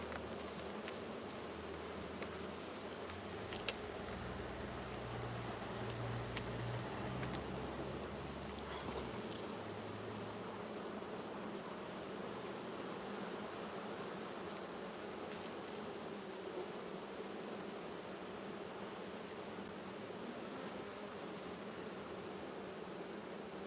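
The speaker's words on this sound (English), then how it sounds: "That's all bees underneath there." Honeybees from a Buckfast colony buzz continuously around an open hive outdoors, a faint, dense, steady hum with a low droning tone early on and no talking.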